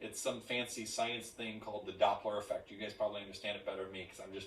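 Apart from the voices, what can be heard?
No everyday noise stands out behind the speech.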